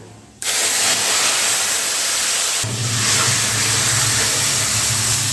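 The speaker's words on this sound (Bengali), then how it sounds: "এবারে তেলের সঙ্গে এই ফোড়নগুলো ভালো করে ভেজে নিয়ে এর মধ্যে দিয়ে দিতে হবে ডাল" Lentils tipped into hot oil with fried panch phoron and mustard seeds for masoor dal, a loud, sudden hiss that bursts up and holds as a steady, close sizzle with a second surge midway.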